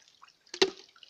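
Water is splashed into a basin (legen), a single brief close splat midway through a quiet moment, with faint drips around it.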